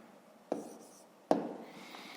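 A pen scratches out the digit 3 by hand on paper, two distinct strokes with sharp onsets and brief rubbing tails, close and quiet, plus a faint tap at the end.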